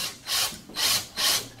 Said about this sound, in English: Alex, you're pre-drilling.